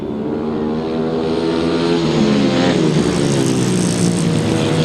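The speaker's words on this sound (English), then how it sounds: "That sounds like a misfired engine as they come over the line." Grasstrack racing engines at a British best pairs meeting roar past the finish line, a loud sustained droning buzz that rises slightly in pitch with an uneven, misfiring edge.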